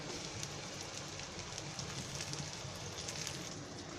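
Chicken leg pieces dipped in batter and dropped into hot oil, a soft steady sizzle and crackle with scattered pops, quiet and even throughout, no talking.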